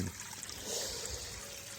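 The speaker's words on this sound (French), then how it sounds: "L'eau ressort ici. Ça fait une petite lame d'eau avec un petit bout de bâche qui dépasse." Water trickling over the edge of a renovated garden pond's liner in a thin sheet, a soft continuous splashing dribble, faint and brief.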